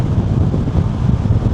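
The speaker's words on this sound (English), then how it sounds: "Yeah, the wind is definitely blowing." Strong wind buffets the microphone outdoors, a steady low rumbling roar with gusty surges throughout, loud and close with no talking.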